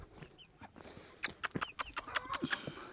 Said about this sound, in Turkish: Bunlar civcivlerim